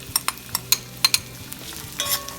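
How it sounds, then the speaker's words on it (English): Onions sautéing in hot oil in a pan while a kachori thali is cooked: a soft, steady sizzle runs under about half a dozen sharp clicks and scrapes of a stirring spoon, close by. "Onions we don't want to fry it too much. We just saute a little bit for a couple of minutes"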